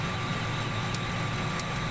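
Tractor engine running steadily in Farming Simulator 17, a continuous droning idle with constant loudness and no talk.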